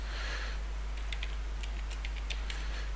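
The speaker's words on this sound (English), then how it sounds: "Just type if branch" Quick, light clicks of typing on a computer keyboard come in an irregular patter over a steady low electrical hum.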